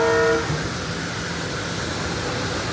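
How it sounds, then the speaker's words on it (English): A SEPTA train with its engines departs from nearby, a rumbling rail roar with a brief horn-like tone at the very start, continuing steadily and moderately loud for the rest of the clip. "Now the train is departing."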